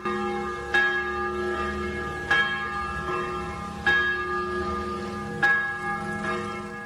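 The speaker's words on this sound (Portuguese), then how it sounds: "Em Castelo, o sino da igreja tocou para alertar a população sobre o aumento do nível do rio." A church bell in Castelo tolls to warn residents of a rising river during flooding, with four evenly spaced strikes about every one and a half seconds, each leaving a long humming ring, heard alone.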